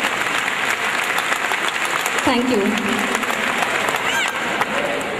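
An audience claps steadily at a school annual day prize announcement, a continuous loud wash of applause while a voice speaks briefly over it.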